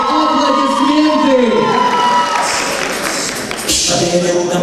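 A concert audience cheers and shouts after a ballroom dance ensemble's performance, a loud crowd roar with excited high voices that fades as the next sound begins.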